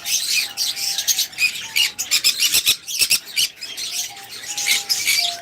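Sun conure parrots at a bird farm give sharp, shrill calls in quick bursts, with thin whistled notes and chattering squawks overlapping fairly close and loud, one brief flurry of clicks or wing flaps in the middle.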